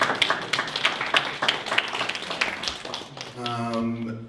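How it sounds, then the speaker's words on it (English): A church audience at St. David's claps for the youth leader, a brisk burst of close, dense hand claps that fades out and gives way to a sustained organ or keyboard tone. "Let's get a round of applause for her."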